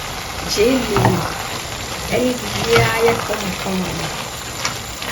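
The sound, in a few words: stirring egusi sauce in a pot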